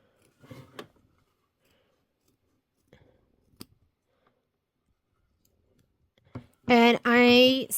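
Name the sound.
scissors trimming quilt fabric around round edges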